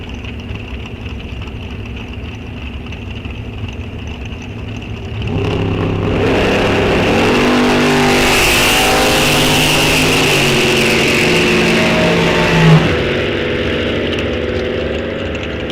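Drag race cars, including a very fast Mustang, launching at Rock Falls Raceway during the NHRA Wisconsin State Championships; engines idle, then roar loudly and rise in pitch as they pull away before fading.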